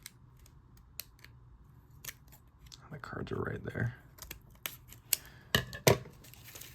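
Sharp snips and clicks of scissors cutting open a package sound close by, with a stretch of slicing and rustling in the middle, while a voice speaks briefly.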